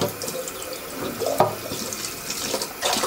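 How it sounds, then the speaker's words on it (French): Tap water runs steadily into a sink as a dirty pond pump priming part is rinsed under it, the splashing shifting in texture as the part moves, close and without talk. "Je vais rincer un petit peu ici."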